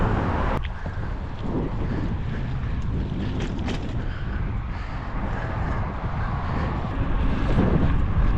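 Strong wind roars steadily across the microphone during an outdoor bike ride, loud, dense and unbroken throughout, with no talking.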